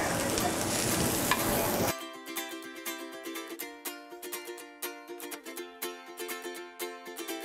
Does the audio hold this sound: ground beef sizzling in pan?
yes